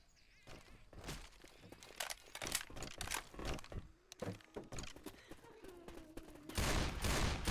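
Gunfire in the zombie shooter Left 4 Dead 2: irregular bursts of sharp, close shots mixed with crunching impacts, ending in a louder sustained burst.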